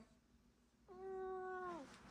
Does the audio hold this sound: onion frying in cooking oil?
no